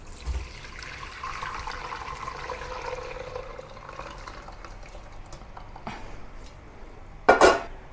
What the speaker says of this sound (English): pour the braising liquid through a wire mesh strainer to catch all the